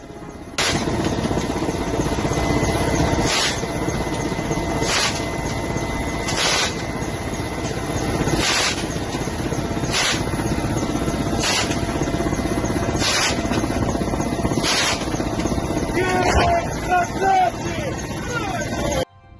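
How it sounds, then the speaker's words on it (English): A Russian military helicopter flying near the occupied Crimean coast, its loud rotor and turbine drone constant throughout, cut by sharp regular bursts roughly every one and a half seconds, with a faint crackle near the end. "The crew of a Russian helicopter with fire from an onboard machine gun destroys a surface drone kamikaze"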